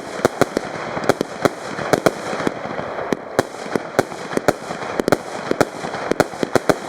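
Rapid fireworks bursts from a 400-shot Metal Box PXC220 crackle and pop in an irregular stream, sharp loud reports over a constant hiss of smaller crackling explosions.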